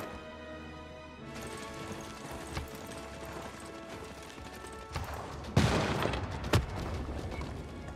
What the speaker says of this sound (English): Oh, he bombarded my cavalry.